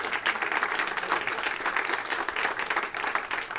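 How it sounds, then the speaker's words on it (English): A steady round of applause fills the room from an audience at a university ethics center dedication, dense clapping throughout with no talk over it. "let's give them a round of applause anyway."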